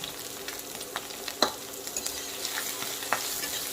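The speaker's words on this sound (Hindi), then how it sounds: "तो प्याज हमारे जब तक अच्छी तरह से भून जाते हैं, तब तक इन्हें हम भूनें।" Onions frying in a pan for masala idli, with a steady soft sizzle and a few sharper clicks and scrapes as they are stirred; no voices.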